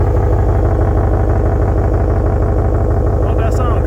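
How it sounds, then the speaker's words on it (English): A deep, steady exhaust rumble from a 2023 Dodge Ram 1500 Big Horn 4x4 pickup idles loudly and evenly throughout, close by, with a faint higher tone near the end. "Listen to this exhaust."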